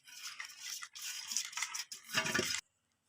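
A pastry brush rubs white oil around the inside of a bowl before banana cake batter goes in. Its close, bristly swishing comes in several quick strokes and ends abruptly, with no talking.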